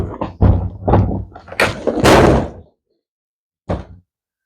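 An old cargo trailer door being put on a stand, a cluster of loud close thuds and bangs in the first few seconds, then silence and one final knock.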